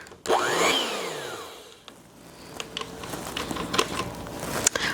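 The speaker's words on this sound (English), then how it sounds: "pardon the noise of this blender for just a moment." A kitchen blender whirs loudly, its motor pitch sweeping and shifting as it chops, then drops to a lower rattling churn with clatters near the end.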